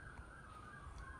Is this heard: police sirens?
yes